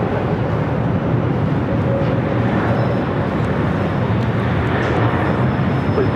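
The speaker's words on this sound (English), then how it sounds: "Please stand for super Airbus passing over." A super-heavy Airbus airliner passes over at LAX, a loud, steady broadband engine roar and rumble that holds for several seconds, close and continuous with no talk.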